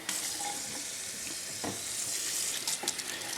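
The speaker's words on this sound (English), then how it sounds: "shrimp and cook it in the skillet a little longer" Shrimp sizzle and fry in a skillet, a steady hiss of cooking with occasional stirring clinks and scrapes, close and fairly quiet, with no voices.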